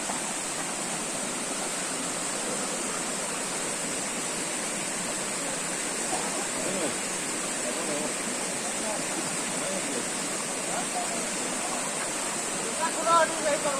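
Continuous rushing water, a broad steady roar of Asurkhol Second Waterfall in Keonjhar close by, with faint voices at moments.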